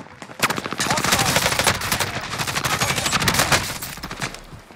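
Heavy automatic gunfire in Call of Duty: Modern Warfare, a loud sustained burst of rapid shots lasting several seconds, with a faint voice underneath.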